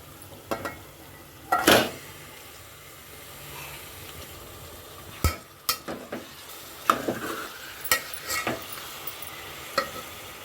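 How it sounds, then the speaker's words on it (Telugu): Chicken pieces hit fried onions in a pan for an Andhra-style chicken gravy curry. A low, steady sizzle runs throughout, broken by sharp clanks and scrapes of a spoon stirring against the metal pan, with no talking. "ఇప్పుడు ఇందులోకి నేను చికెన్ వేసేస్తానండి"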